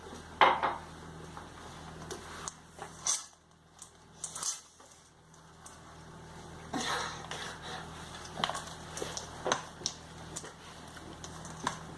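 Teddy bear cookie dough being mixed in a bowl, with scattered clinks and scrapes of a utensil against the bowl at irregular intervals, fairly quiet and close, with no talking.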